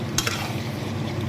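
Chicken sizzles in a pan as it is sautéed with spices for a dry curry, a steady close frying hiss with a couple of quick scraping stirs.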